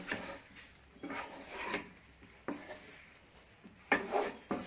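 A spoon scrapes and stirs pepper liver fry with crushed pepper and curry leaves in a pan, giving several separate rubbing, scraping strokes at an uneven rhythm, close and moderately loud, with no talk.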